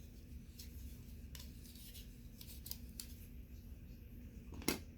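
A small part for an Onkyo RC-865M remote control is trimmed down, giving faint, sparse snipping clicks over a quiet background hiss, with one sharper cut near the end.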